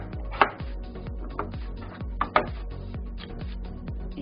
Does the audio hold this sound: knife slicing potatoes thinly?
yes